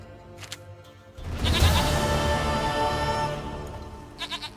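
A goat in The Witcher 3 gives one long, loud, wavering bleat up close, ending in quieter short sounds.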